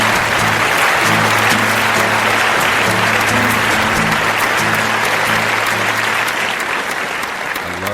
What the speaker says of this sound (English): I love the award show clapping